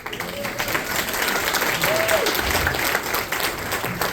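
An audience at a storytelling event gives a round of applause, steady dense clapping from a crowd that holds at moderate loudness for several seconds.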